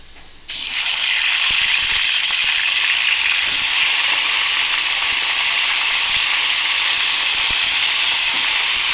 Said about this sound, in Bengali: সর্ষের তেলটা গরম হয়ে গেছে মোটামুটি। এবার আমি মাছগুলো ছেড়ে দেবো।